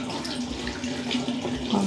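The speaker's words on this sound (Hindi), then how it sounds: "पानी। चलो सामने डालो," Tap water running steadily into a basin while a newborn baby is bathed, a continuous close splashing flow with faint speech in the background.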